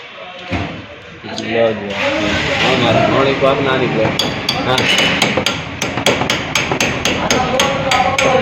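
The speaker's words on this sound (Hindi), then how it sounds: "पेचकस रख के मार इसको" Metal hammer striking a screwdriver held against a car's camber part in a workshop, a run of sharp, close ringing blows in steady rhythm, heard under loud talking between mechanics.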